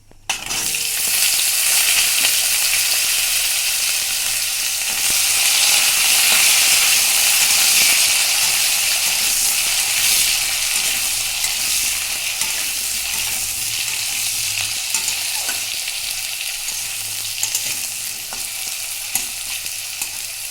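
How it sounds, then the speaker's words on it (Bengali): Potatoes frying in hot oil in a home kitchen as the base for a pabda fish curry, with a loud continuous sizzle that swells and eases, a few faint clinks, and no talking. "আলুগুলো দিয়ে দিচ্ছি"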